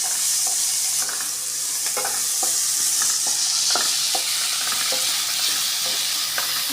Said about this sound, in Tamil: பொடியை நறுக்கி வச்ச வெங்காயத்தை போட்டு நல்லா வதக்கணும்.